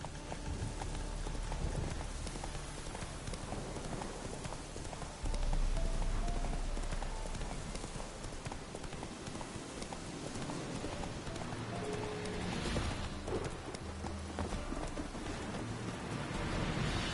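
Geralt's horse Roach galloping in The Witcher, dense rhythmic hoofbeats mixed into a thick, noisy wash with rain-like hiss and low rumbles, loud and continuous.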